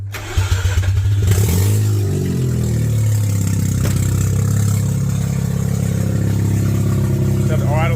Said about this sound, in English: Let it idle for a couple of minutes.